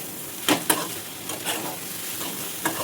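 Rice is stirred in a pan while cooking egg bhurji, with a low sizzle and a few distinct scraping strokes of the spoon at close range.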